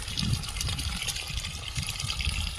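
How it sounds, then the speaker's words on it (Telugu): Irrigation water on a farm flows in a steady, broad rushing gush, close and continuous with no pauses, alone without talk. "ఈ వాటర్ ఎన్ని వస్తున్నాయి."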